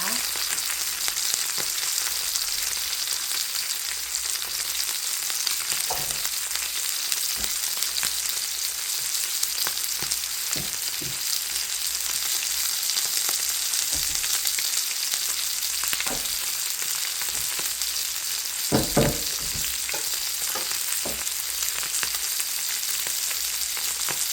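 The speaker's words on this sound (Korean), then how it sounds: "기름에 살짝 튀기듯이" Oil sizzles steadily and close by, with a constant hiss broken by occasional pops and crackles as half-dried flounder fries in a pan.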